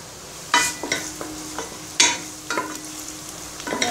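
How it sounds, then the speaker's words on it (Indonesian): Vegetables for sayur bening are stirred in a pot on a single-burner stove, with scraping utensil strokes and soft sizzling arriving in irregular bursts, close and moderately loud, with no talking. "masak sayur bening"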